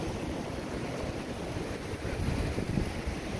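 Strong wind gusts past a small Himalayan river in Nepal, a broad rushing roar buffeting the microphone, steady throughout and swelling slightly toward the end, with no voices.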